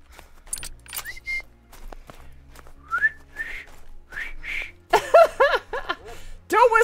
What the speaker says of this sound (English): Don't whistle, lady.